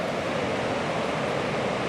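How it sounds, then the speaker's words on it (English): A river rushes far below a steep hill beside old railroad lines in West Virginia, a steady broadband roar with no pauses and no voices. "And the river is right there."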